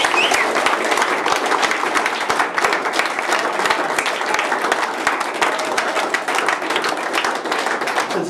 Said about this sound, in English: can we have a huge round of applause for the coaches?